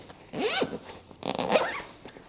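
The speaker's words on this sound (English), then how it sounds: "Zip the laptop pocket back up." Laptop pocket zipper on a NayoSmart Herman H2 half roll top backpack being pulled shut in two quick, close rasping strokes with a short pause between, no talking.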